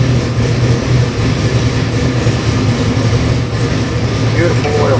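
A Ford 427W 600HP crate engine idles steadily on a test stand, a dense, continuous low rumble held at an even level throughout.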